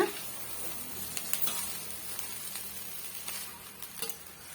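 Cooked rice being stirred and mixed with carrot in a pan for a carrot rice lunch-box dish, giving soft scraping and light sizzle with a few clicks of the spoon, close and steady, no talking.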